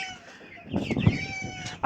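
A hen clucks in a few short, close bursts after laying an egg, against a quiet morning background, with faint bird calls and a sharp sound at the end.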